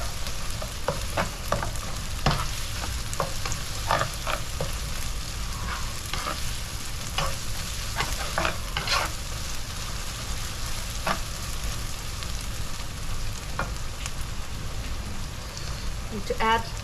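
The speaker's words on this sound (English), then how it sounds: "we're going to saute this for 1 or 2 minutes" Chopped ginger and garlic sauté in hot oil for a Szechuan soya chunk pickle, a steady rain-like sizzle broken by repeated clicks of a spatula stirring, close and continuous.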